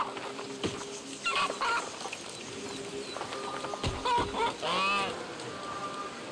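A goose in the video game A Plague Tale: Requiem honks in several loud, nasal calls, including a long drawn-out one near the end, over rustling game ambience with no talk.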